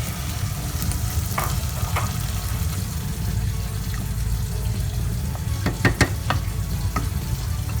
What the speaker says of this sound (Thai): ผมใส่กะทิเลยนะครับท่านผู้ชมครับ